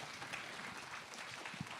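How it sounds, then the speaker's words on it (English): Conference attendees clap for a panel of speakers, a brief, even patter of applause from a modest audience, fairly faint and steady throughout. "Let's give another round of applause to all our panelists for their excellent sharing."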